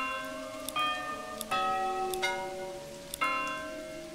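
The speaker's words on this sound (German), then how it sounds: "Glockensound." Church bell tolling in the medieval city-building game Manor Lords, four resonant strikes at a slow, uneven pace, each with a long ringing decay, moderately loud with no talk.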